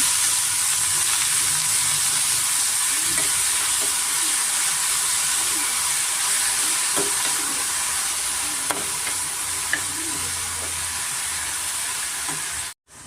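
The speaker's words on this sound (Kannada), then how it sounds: "ಮೀಡಿಯಮ್ ಫ್ಲೇಮಲ್ಲೇ ಸ್ವಲ್ಪ ಚೆನ್ನಾಗಿ ಫ್ರೈ ಮಾಡ್ಕೊಳ್ಳೋಣ" Spinach (palak) frying in a pan over a medium flame while cooking moong dal, a steady, even sizzle and hiss holding throughout with faint stirring scrapes, close by and with no voices.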